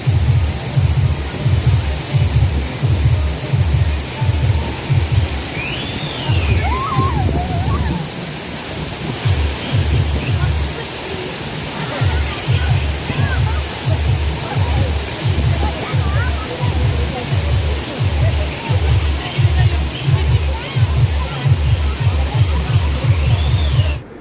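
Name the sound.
waterfall roaring, Kerala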